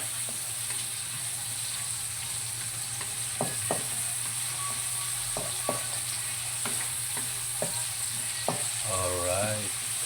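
Onions frying in Star margarine for tofu sisig with tuna, a steady close sizzle with occasional soft clicks of utensils, alone without talk.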